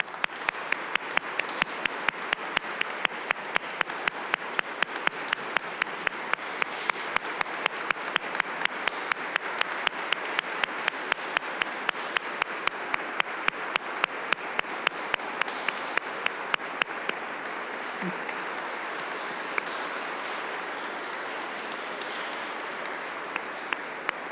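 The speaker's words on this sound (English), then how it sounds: "we can give them a round of applause and thank them for their many services to our parish" Sustained applause from a parish audience at a church celebration, dense steady clapping from a large crowd lasting over twenty seconds before thinning into a few scattered claps.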